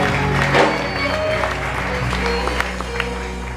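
A church congregation claps in a steady, dense burst of applause over a low, sustained hum from the hall, with faint voices mixed in.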